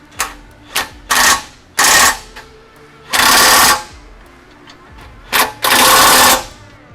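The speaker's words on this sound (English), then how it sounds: "I'm going to use a socket, an 11/16 on the back side that I can just fish in there, and my impact on the front with a 5/8" An impact wrench fitted with a 5/8 socket drives bolts on a high-clearance rear bumper being installed on a 2016-or-newer Toyota Tacoma, sounding as several loud, sharp rattling bursts of varying length, some brief and some lasting about a second.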